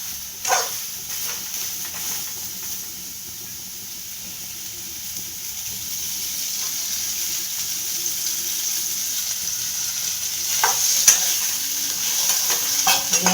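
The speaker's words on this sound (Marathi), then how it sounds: "आपल्याला तेल थोडं जास्त टाकायचं आहे बघा भाजायला." Eggplant fries in oil over a low gas flame with a soft, steady sizzle close by, and a few clinks and stirring sounds rise above it.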